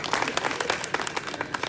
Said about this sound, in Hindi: मैं चाहता हूं जोरदार तालियों से इनका स्वागत हो